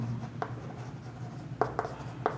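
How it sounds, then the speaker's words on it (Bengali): Writing on a board during a Class 6 maths lesson. A few short, squeaky strokes come one at a time, followed by a quick run of three near the end, over a faint room hum, with no one speaking. "তাই লিখব যে"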